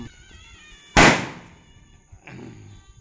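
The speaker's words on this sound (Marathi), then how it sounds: "माझ्या आवडीच फटाके उडवत आहे" A single sharp firecracker burst at a Tulsi Vivah celebration, loud and close, fading quickly, followed by quieter background noise and a faint cat-like cry.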